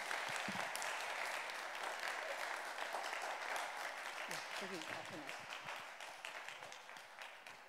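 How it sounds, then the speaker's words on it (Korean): Sustained applause from a large crowd at a church youth seminar, dense and steady, slowly tapering off toward the end with faint voices beneath. "여러분 박수 칠 준비 다 하시고"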